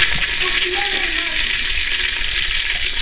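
Kashmiri chili powder hitting half a cup of hot oil, giving a steady, loud, continuous sizzle with faint stirring beneath, no pauses across the stretch.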